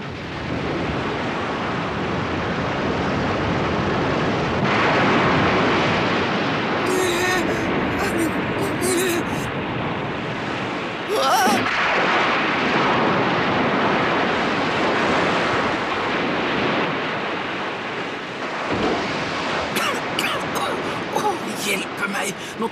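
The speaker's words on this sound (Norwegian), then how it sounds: "Det trekker visst opp til et kraftig uvær." A violent storm at sea in an animated scene, with continuous loud surf and howling wind under bursts of harsh crashing noise and voices speaking throughout.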